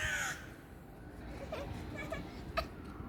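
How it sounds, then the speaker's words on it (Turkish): A crow in a garden with wet ground caws several times in quick succession, faint and at a distance. Soft background noise and a brief child's sound come first. "Evet karga var orada"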